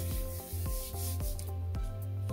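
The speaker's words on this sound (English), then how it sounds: "Fold her up and rub, rub, rub, rub, rub" Folded paper rubbed by hand over wet paint for a holiday tree squish print, a quick rhythmic series of close, loud rasping strokes, about four per second, with no voices.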